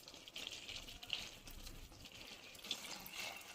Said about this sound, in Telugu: ఇప్పుడైతే ఇందులోకి అయితే వాటర్ పోసుకోవాలి.